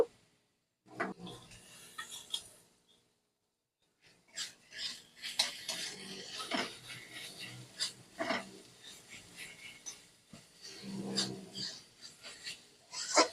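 Ginger-garlic paste and onion paste being stirred in a pan give scraping, rasping strokes in uneven bursts. A short pause breaks the stirring early on, and the sound is close and moderately quiet.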